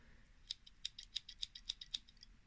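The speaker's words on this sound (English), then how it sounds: "Very definite click and closure on all of these tools, as you may hear." Victorinox Super Tinker pocket-knife scissors click crisply open and shut about seven times in a quick, even rhythm, close and quiet against a faint hum.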